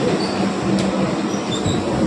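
A train rolling in at Bauria station, a steady broadband rumble of wheels and carriages with faint squeals and clatter, moderately loud and continuous with no voices.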